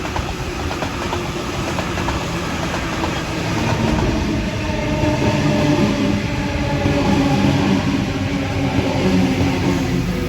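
A Sydney Trains Waratah Series 1 A set at Petersham in the morning peak roars past, a loud, continuous rush of wheels and carriages that swells a little toward the middle and holds steady, with no voices.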